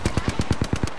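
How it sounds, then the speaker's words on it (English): Rapid automatic gunfire in a duo arena match of a shooter video game, about nine sharp shots in a quick even burst lasting around a second, loud and close. "I shot Rafe pushing"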